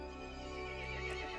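A horse in the Resident Evil Village video game lets out a loud, drawn-out whinny over a steady low background hum, the cry rising and wavering briefly.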